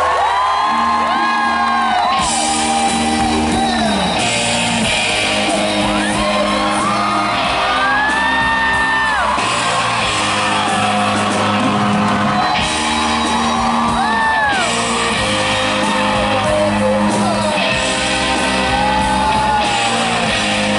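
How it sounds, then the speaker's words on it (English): At a convention panel, the audience erupts in loud, sustained cheering, whooping and shouting with applause mixed in, a dense roar that holds for about twenty seconds alongside music-like tonal layers. "Round of applause for Mr."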